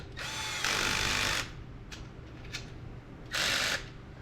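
A cordless screwdriver with a clutch set to very low torque drives screws in a Jeep Wrangler ring and pinion job. It gives two short, close whirring bursts with quiet gaps between them and no talk.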